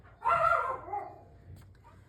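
A dog lets out a single loud, drawn-out bark or howl after the doorbell rings, followed by a quieter trailing yelp.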